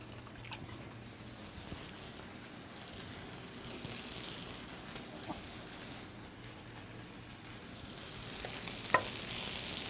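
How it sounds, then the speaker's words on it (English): Stuffed pork chops sear in a hot pan with a steady, soft sizzle and crackle that runs evenly throughout, with a few small pops near the end and no talking. "that's why I'm gonna, you know, pan sear them and finish them off in the oven"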